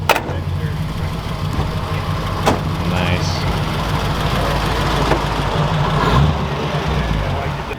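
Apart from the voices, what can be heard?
truck engine idling as it pulls in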